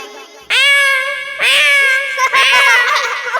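A human voice imitates a cat, giving three drawn-out, loud, close meows one after another, each rising then falling in pitch, with the last one rougher and more wailing.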